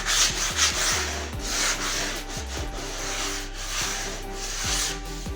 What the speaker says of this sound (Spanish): solamente pasamos nuestra lija.